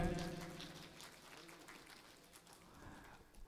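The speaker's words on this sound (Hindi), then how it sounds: "एक बार जोरदार तालियां आपके लिए भी हो जाएं।" An audience applauds at an all-India kavi sammelan and mushaira poetry gathering in Siddharth Nagar, a faint, distant patter of clapping after a brief voice at the start.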